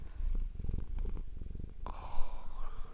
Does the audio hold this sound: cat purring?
yes